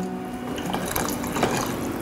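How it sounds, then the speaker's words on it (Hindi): About one and a half cups of water pours steadily into a pot of dalia khichdi with salt, a continuous close, full splashing gush throughout. "इसके अंदर मैं डाल देती हूँ ये approximately one and half cup जितना पानी"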